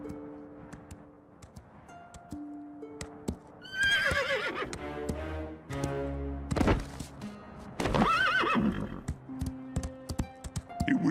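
A horse whinnies in several loud, shaky bursts over a soft musical backdrop, with scattered hoof clops and thuds in between.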